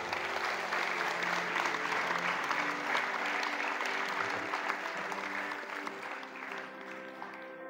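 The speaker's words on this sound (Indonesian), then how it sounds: "Tepuk tangan" An audience at an Islamic boarding school gathering in Cianjur breaks into dense, sustained applause, a thick continuous roar of clapping that tapers off gradually toward the end.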